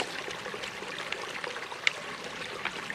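Stream water trickles and gurgles steadily close by, with small splashes as it flows into a filter pouch, at Dolly Sods, West Virginia, in fall.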